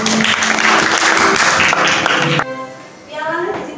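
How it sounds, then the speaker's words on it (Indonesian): Applause for Pak Kasma in a classroom lesson, a dense burst of group clapping for about two and a half seconds that cuts off abruptly, followed by a voice speaking. "beri aplaus pada Pak Kasma."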